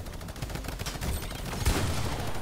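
Rapid gunfire in the video game Fortnite, dense bursts of sharp shots that rattle on continuously with one heavier blast near the middle, loud and busy with no speech.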